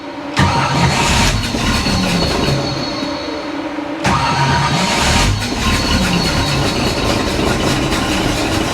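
An old 1955 Chevy Nomad engine cranks twice in loud, rough bursts, a rhythmic mechanical churning that sputters but keeps turning over, close to the listener; it may lack fuel or need timing adjustment.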